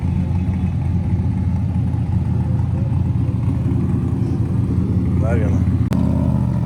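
Modified cars rolling past at the SEMA Show 2025 in the USA, with a dense, continuous engine rumble from several vehicles close by, a brief rising rev near the end, and a person talking over the noise.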